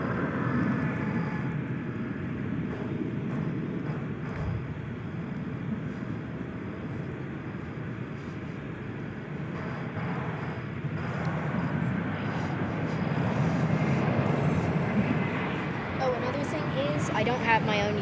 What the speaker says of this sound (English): it looks like we've got the Flying Roo, which is now getting into position for takeoff